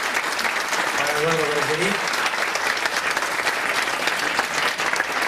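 An audience at a Smart Grid conference gives a dense, sustained round of applause after a talk, while a voice speaks briefly over the clapping.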